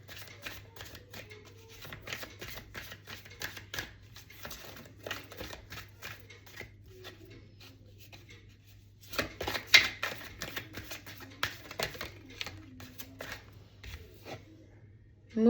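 Tarot cards shuffled by hand at close range, bursts of riffling and sliding cards with brief pauses, growing busier toward the end, under a low steady hum.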